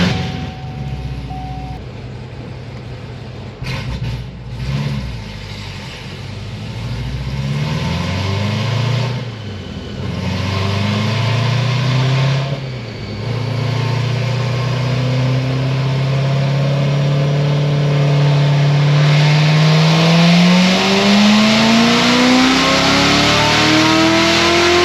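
A Chevrolet Corvette C7 Z06 with headers, intake and tune revs hard on a dyno pull, its engine note climbing steadily in pitch over a sustained loud run after a few shorter blips, with no talk.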